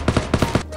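Bursts of gunfire from the mobile battle royale game Knives Out come in a quick, rhythmic string of roughly five sharp shots, loud and close, with no voices over them.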